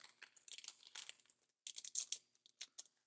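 Thin plastic shipping air pillow being handled and cut just below its sealed line, giving close crinkling and crackling bursts that come in two clusters with a brief pause between.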